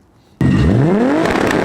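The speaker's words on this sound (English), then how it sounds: "let's go ahead and insert a little two-step footage right there." A tuned car with a Haltech ECU kicks into two-step launch control after a brief hush, a loud, sustained rapid crackling drone from the exhaust with a rising tone.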